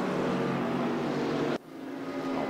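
A Porsche race car in the Raceroom racing game revs hard under sustained engine roar for about a second and a half, then abruptly cuts off and the engine note drops sharply before climbing again, close and loud with no talk.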